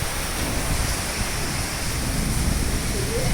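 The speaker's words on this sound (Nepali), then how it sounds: "म त फर्स्ट टाइम देखेको भए यस्तो पानी परेको" Heavy rain pours steadily during a storm with strong wind. A dense, loud, unbroken roar of water fills the whole clip with no voices.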